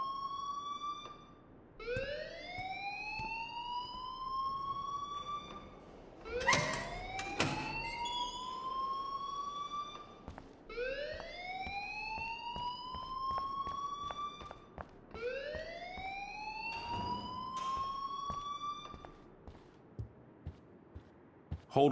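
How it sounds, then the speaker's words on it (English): An alarm in the video game Life is Strange wails in loud rising sweeps that repeat roughly every four seconds across several cycles, with no one talking. "please turn off that alarm since that's your job"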